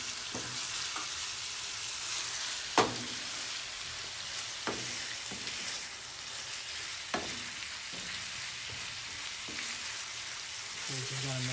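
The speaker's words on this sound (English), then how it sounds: "We're just gonna make sure this sautés" Meat for empanadas sautés in a pan with a steady, fairly quiet sizzle, broken now and then by the clack of a utensil stirring it.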